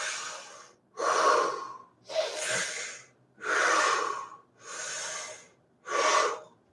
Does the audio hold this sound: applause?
no